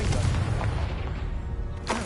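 A Confringo blasting spell exploding in the Hogwarts Legacy video game, a dense low rumbling boom with a short burst near the end, loud and close.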